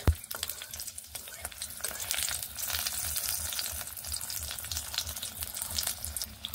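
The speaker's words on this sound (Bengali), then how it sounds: "আবারও একটু তেল দিয়ে একটি কাঁচা লঙ্কা ও একটু পাঁচফোড়ন দিয়ে নিচ্ছি। কয়েক সেকেন্ড ফোড়নগুলোকে এইভাবে নেড়ে নিয়ে" Panch phoron and a green chili are stirred in hot oil, making a loud, close, continuous sizzle with scraping stir strokes and spattering crackles, and no one speaking.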